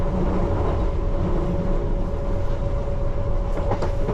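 A London Underground Piccadilly Line train runs at about 35 mph, heard from inside as a loud, constant rumble and roar with a steady hum and faint rattling.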